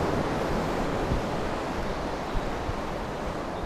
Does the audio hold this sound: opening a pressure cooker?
no